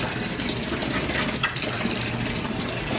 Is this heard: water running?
yes